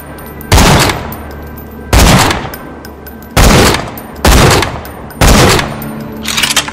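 Borderlands 2 gunfire comes in five loud, sharp bursts spaced roughly a second apart, each shot booming and then tailing off over a steady game background.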